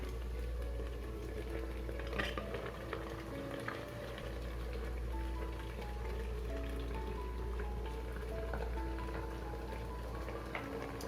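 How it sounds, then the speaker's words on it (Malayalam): Water boiling steadily in the base of an idli steamer, a soft continuous bubbling and hiss that stays faint and even throughout, with no voices. "അപ്പോൾ ഇവിടെ ഇതാ വെള്ളം തിളച്ചിട്ടുണ്ട്."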